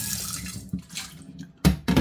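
Cinnamon leaves and sticks are washed in water, giving a soft trickling and splashing followed by two brief louder gushes near the end.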